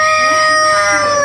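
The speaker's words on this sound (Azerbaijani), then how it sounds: "Toyuqlardır bu tərəfdə" A rooster crows close and loud, one sustained harmonic call that fills the whole moment, at a rare-bird keeping yard in Iran.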